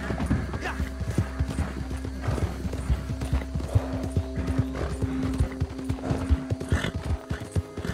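Horse galloping in Red Dead Redemption 2 online, a rapid rhythmic hoof clatter that runs continuously and loudly throughout, with occasional snorts and a faint voice underneath.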